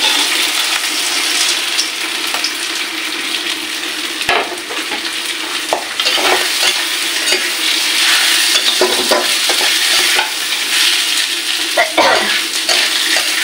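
Washed lentils drop into a hot pan and keep sizzling while they are stirred, a loud, dense, close hiss with scraping spoon strokes and splashy bursts running all the way through.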